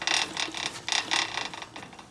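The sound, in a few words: loose motorcycle chain rubbing the frame, Harley Sportster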